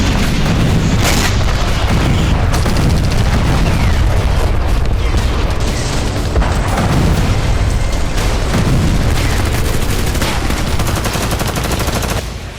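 Repeated loud booms and bursts of gunfire from fighting at the Lebanon border, dense and continuous with overlapping blasts and rattling shots throughout.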